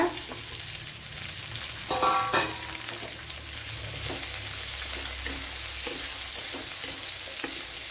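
Shallots and large onions sautéing in a pan for Kerala-style soya chunks, with a few clanking stirs early on, then a dense, steady sizzle that grows fuller, close up and without speech.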